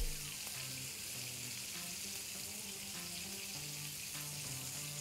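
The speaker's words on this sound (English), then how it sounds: "Let's heat 2 tablespoons of oil." Two tablespoons of oil heating in a pan for a curry gravy, a soft continuous sizzle and hiss at low level, with faint background hum and occasional light clinks.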